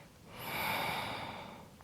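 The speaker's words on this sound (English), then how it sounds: "Breathing in" A yoga teacher's audible in-breath during a humble warrior flow, a single breathy inhale swelling and fading over about two seconds, close and alone.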